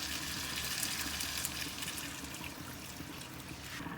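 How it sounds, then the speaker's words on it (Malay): Three glasses of water pour steadily into a cooking pot of bamboo shoot chicken curry, a continuous splashing flow with no talking. "Masukkan 3 gelas air."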